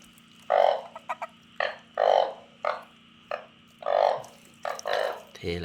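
Freshly caught frogs and toads croak up close in a rhythmic series of loud, throaty calls, some long and some short and clipped, over a low steady hum.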